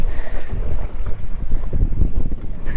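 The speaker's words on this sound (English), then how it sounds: "the wind is about to blow everything away" Strong wind buffets a small fishing boat at sea, a loud continuous roar of gusts against the microphone with rumbling low noise throughout, no voices.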